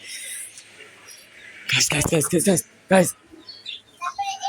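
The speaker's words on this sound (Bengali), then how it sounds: "আমি একটা পাখি দেখছি অনেকদিন পর ভাই, বুলবুলি দেখছি আমি।" A bulbul calls nearby in a short burst of bright chirps and warbling notes, with a brief sharper call after a pause and quieter chirps toward the end, over a faint background hiss.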